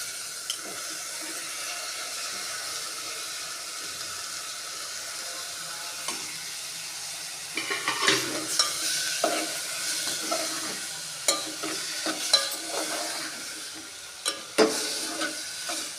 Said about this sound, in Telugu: ఇప్పుడు టమాటాలు వేస్తున్నాను